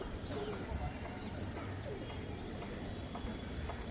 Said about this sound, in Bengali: দেখো দেখো গু গু করে ডাকাডাকি করছে।